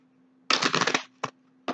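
A deck of tarot cards riffled in one quick burst, followed by two short separate snaps of cards being tapped or squared, close and crisp against a faint steady hum.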